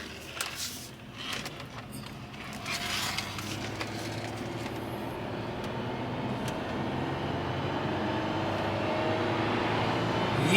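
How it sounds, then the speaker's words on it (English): A car with a transmission that won't shift, apparently a Dodge, Plymouth, Ford or Chevy, drives on a test drive. Its steady engine and road rumble build gradually in volume, with no talk. "So let's go for a test drive."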